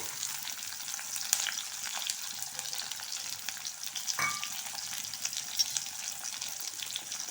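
Chopped medium onion frying in a pan for a sweet potato curry, a steady close sizzle with light stirring scrapes throughout and no talking.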